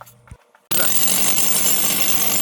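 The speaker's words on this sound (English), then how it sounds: "we're back outside drilling. In this instance we're using the bigger hammer drill" After a brief quiet start, a large hammer drill bursts into loud, continuous grinding and hammering as it bores outdoors through a wall about a foot thick.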